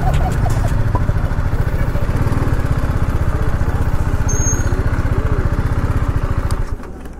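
Steady engine drone of a BMW G310R motorcycle being ridden at night, loud and continuous throughout with a constant low throb.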